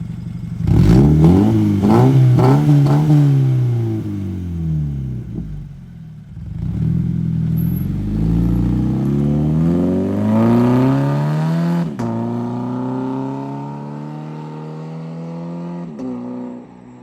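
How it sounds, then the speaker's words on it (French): A Scion FR-S sports car, heard from outside, revs loudly and close up in repeated rising and falling sweeps across several long pulls, with a brief dip between bursts. "Vas-y, un petit rev pour l'équipe."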